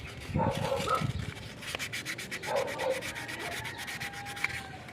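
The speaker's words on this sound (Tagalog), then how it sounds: "Ito, lilihain natin itong nagkalawang" Steady scraping of sandpaper rubbing over a rusty oxygen sensor, continuous back-and-forth strokes, close and fairly loud.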